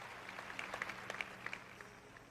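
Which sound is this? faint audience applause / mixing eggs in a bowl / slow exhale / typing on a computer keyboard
faint audience applause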